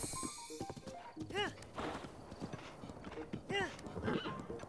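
Horse hooves clip-clop at a run in Zelda: Breath of the Wild, broken by two sharp whinnies, with game sounds in the background.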